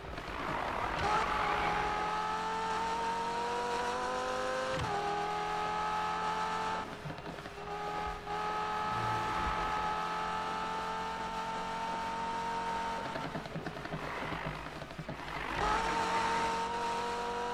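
A car cruising in Need For Speed (2015), engine droning steadily and rising through the gears with repeated shifts, a sustained close motor hum over nearly eighteen seconds.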